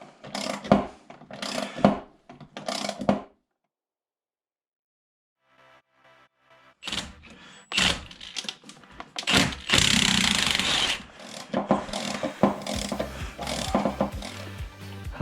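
Ratcheting and metallic clanks from a breaker bar working LS engine head bolts loose, coming in close bursts with a silent gap in the middle and a loud stretch near the end.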